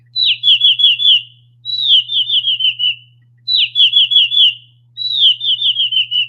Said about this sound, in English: The like alert sound to end the stream will be a bird sound